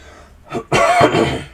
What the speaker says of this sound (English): I haven't coughed up all what I'm gonna cough up yet.